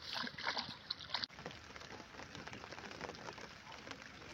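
Steady rain patters onto the open water of Mashumdia beel during hook fishing for rohu, a dense, even hiss of drops that stays close and continuous, with a few louder splashes near the start.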